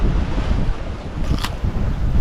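Wind and ocean waves aboard a sailboat at sea with waves on the stern, a loud continuous rushing roar with a short splash-like swell near the middle, no voices.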